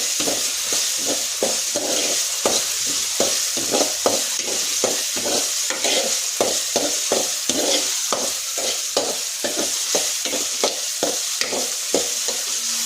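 Garlic and ginger paste fries in hot oil in a pan for a home chicken curry, a steady loud sizzle broken by regular scraping strokes of a spoon stirring, with no talking.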